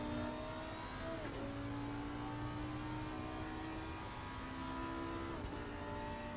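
Engine drone of racing cars on the Imola circuit in a sim racing game, a Lamborghini among them, with steady high revving tones that shift pitch as cars pass close by, continuous and loud with no talk.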